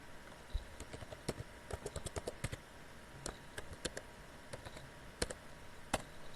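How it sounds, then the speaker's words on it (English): Keys clatter on a computer keyboard in quick, uneven bursts of light clicks while a password is typed, close up and fairly quiet, with no talking. "now let me type a password"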